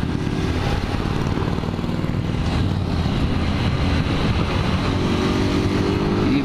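A motorcycle rides along the Marginal Tietê expressway in São Paulo, its engine droning steadily and close over dense traffic rumble, with no pauses throughout.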